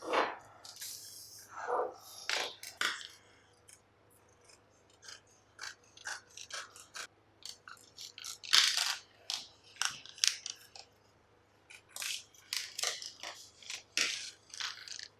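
Scissors snipping along a pattern line while a bodice is cut for sewing, heard as close, irregular crisp clips and rustling of the material with pauses in between, no voices.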